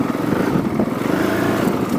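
Honda CRF450L street-legal dual-sport motorcycle engine, a close, loud, steady single-cylinder rumble with a rapid pulsing beat, alone for about two seconds.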